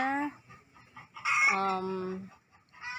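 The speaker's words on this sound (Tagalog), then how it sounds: "Ito ito na kanyang mga manok." Chickens on a farm in Amadeo cluck and call in short, close, tonal bursts, including a drawn-out crow-like call midway, with a person's voice talking faintly between them.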